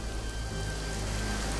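Rain falls in Chennai in a brief, steady, close hiss of drops on a surface, with no voices.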